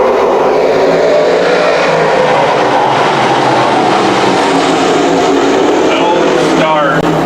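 Modified race cars at Canham Speedway idle and roll as the field lines up for a start that is waved off, the engines a steady loud roar with a commentator talking over them.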